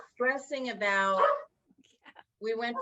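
A dog barks and yips in short bursts close by, with a few quieter whimpers between them.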